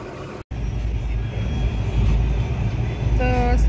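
A running train gives a loud, steady rumble and rattle that persists throughout, with a brief horn-like tone near the end.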